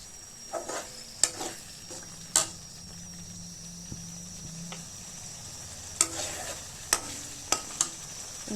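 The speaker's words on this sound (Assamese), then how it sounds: "অলপমান ভজা হোৱাৰ পিছতে মই মটৰ দিছোঁ, কেঁচা মটৰখিনি, আৰু লগতে কিচমিচ কেইটাও দি দিছোঁ।" Onions, raw peas and raisins frying in oil in a pan, with a quiet continuous sizzle broken by sharp scattered clacks of a spoon against the pan.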